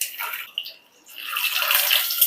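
Boiled eggs dropped into heated oil in a bowl set off a bright, hissing sizzle that briefly drops, then swells back louder and steadier, close up.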